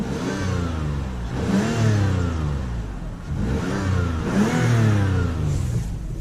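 A 2005 Toyota Highlander's 3.3-litre V6 revs up and settles repeatedly, three or four rising engine sweeps heard close and fairly loud from inside the car, with no talking.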